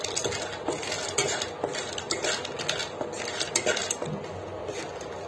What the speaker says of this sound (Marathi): छान असं आता आपण हे भाजून घ्यायचंय काजू